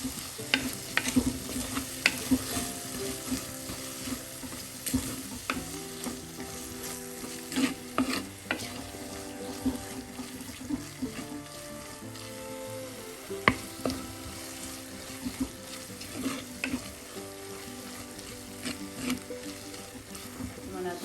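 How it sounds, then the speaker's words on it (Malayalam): Masala for a seabass fish curry fries in oil while being stirred, giving a steady close sizzle broken by repeated scraping and clinking strokes of the spoon against the pan throughout. "എല്ലാം കൂടെ ചേർത്ത് നന്നായി ഒന്ന് ഈ എണ്ണയിൽ മിക്സ് ചെയ്യുക"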